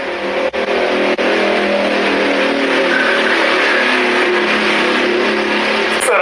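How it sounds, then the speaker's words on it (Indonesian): A loud motorcycle engine drones steadily throughout, revving and roaring close by with a sustained whine, briefly dipping twice near the start. "Suara motor."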